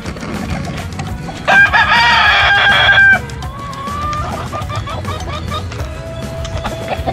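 Roosters at a zoo let out a loud nearby cock-a-doodle-doo crow, with further clucking and crowing from the flock and people talking in the background.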